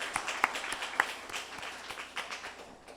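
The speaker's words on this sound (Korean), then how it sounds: "다시 한번 박수로 축복하겠습니다." Church congregation clapping after a prayer in a Sunday worship service, a soft, somewhat sparse round of applause with a few crisp individual claps, heard at a distance in a reverberant hall.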